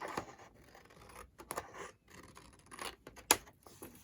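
Scissors cutting paper along a marked line during the restoration of an old Bible, with several short snipping and scraping bursts, close and fairly quiet, the strongest near the end.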